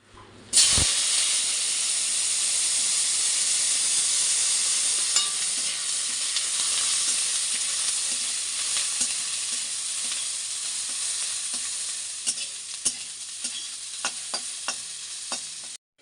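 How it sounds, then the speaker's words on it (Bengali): Sliced potatoes for noodles fry in hot oil, a loud hissing sizzle that starts abruptly and carries on steadily, close and without talk, with small clicks and spits near the end. "চলো এখন এই আলুটা একটু ভেজে নিই"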